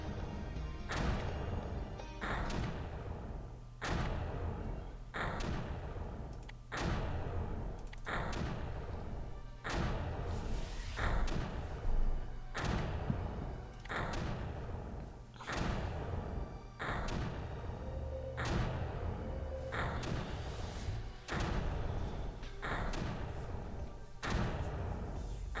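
Mortars fire in the video game Creeper World, sounding as a regular series of heavy, punchy thuds at roughly one-second intervals, repeating steadily throughout, with a faint short tone in between.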